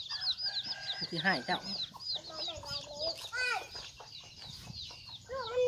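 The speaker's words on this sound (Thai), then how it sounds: "ระวังไก่ไก่มันลูกอ่อน" A hen with young chicks clucks close by in a rural yard, with soft repeated clucks and peeping mixed with a brief rooster-like call, while a few people talk over them.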